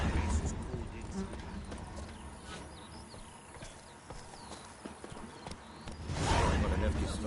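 Horse hooves clip-clop steadily in a PS4 video game, set among ambient game sounds and faint birds, with a voice talking over them and a louder swell near the end.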